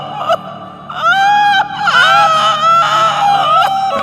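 High, wavering shrieks of a voice in a Shakespeare audio drama of The Winter's Tale, loud and close, rising and falling in several bursts across the clip with no spoken words.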